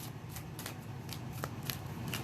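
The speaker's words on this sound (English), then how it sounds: "This ancestor card, I'm just shuffling." Tarot cards being shuffled by hand, a run of quick papery riffles and flicks in an irregular rhythm, close up and steady with no voices.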